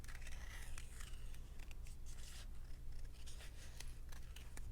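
Scissors cutting loosely around a painted flower on a journal page, a steady run of close snips and paper rustle, no voices.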